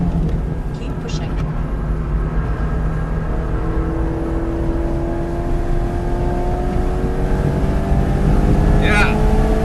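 A car engine accelerating hard during an SCCA track time trial at ECR: a loud, steady in-cabin engine drone rises in pitch through the gears, with continuous road and wind roar and no pauses.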